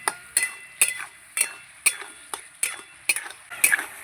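A spoon scrapes and taps against a pan in steady, repeated strokes, about eight in four seconds, stirring potatoes and spices with yogurt. Close and crisp, with no talking.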